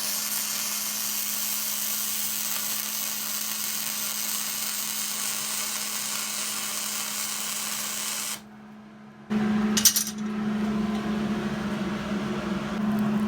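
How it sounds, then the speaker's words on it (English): A flux core wire welder runs on a DIY steel loft bracket for an arched cabin, producing a steady close crackling hiss with a low electrical hum; it cuts out briefly, then resumes. "Even I can weld these things."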